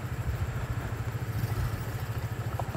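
Honda Click 125 motorcycles ride over a rough road near a campsite in Norzagaray, Bulacan; a steady low engine drone throbs with quick irregular pulses and clatter as the bikes bounce along, with no talk.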